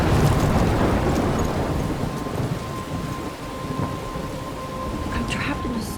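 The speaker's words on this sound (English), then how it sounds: "I'm trapped in a storm?" A thunderstorm in the game Life is Strange: steady, loud rain hiss with low rumbling thunder rolling beneath it throughout, dense and close, with no talking.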